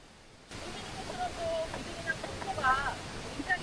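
Bidulginang waterfall in Pocheon, tucked deep into its gorge, gives a steady rushing roar that starts abruptly and holds throughout, with faint voices murmuring over the water noise.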